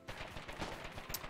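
Several muffled gunshots from a multiplayer war video game sound in quick succession, distant and faint, firing from somewhere behind the player with no talk over them.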